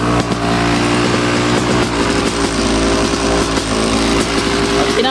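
A Yamaha YZ250X dirt bike engine idles on choke with a loud, steady, buzzing two-stroke drone close by, running evenly without revving throughout.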